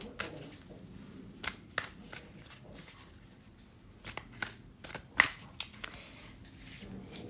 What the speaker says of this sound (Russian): И пока я выкладываю карты,